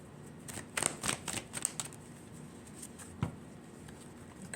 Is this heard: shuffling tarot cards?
yes